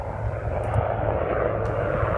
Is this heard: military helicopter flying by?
yes